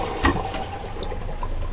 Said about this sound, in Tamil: ஃப்ளஷ் பண்ணோம் அப்படின்னா தண்ணி கீழே போய்ட்டு